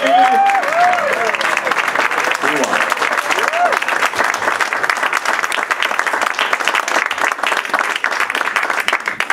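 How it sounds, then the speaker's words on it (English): Audience clapping at the Unity Center of Norwalk, Connecticut, a loud, sustained burst of crowd applause filling the whole stretch, with a voice briefly audible over the opening seconds. "But I better hear more than one hand clapping."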